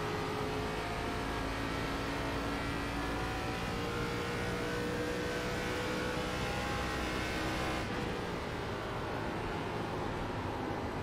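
An ARCA race car engine in iRacing at Nashville Superspeedway holds a steady high drone at sustained speed, continuous and loud throughout, with a slight shift in tone near the end and no speech.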